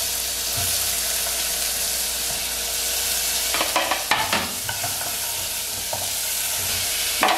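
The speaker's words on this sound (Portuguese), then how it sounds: "Começou a querer dourar o alho, eu vou colocar a cebola." Garlic and onion sizzle loudly in an oiled pan with a continuous frying hiss, while a utensil stirs and scrapes through the mixture in a few brief clattering bursts near the middle of the clip.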